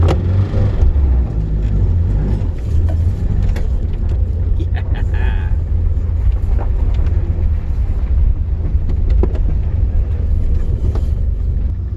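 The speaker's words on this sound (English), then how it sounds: "See if we can do a burnout." A 1987 Chevy Chevette engine roars and revs loudly during a burnout attempt, a sustained close, heavy engine drone for the whole span, with voices faintly mixed in.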